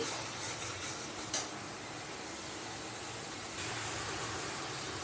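Hilsa curry masala sautés in a pan with yogurt and sugar, giving a dense, continuous sizzle and stirring scrape close up, with one brief knock partway through.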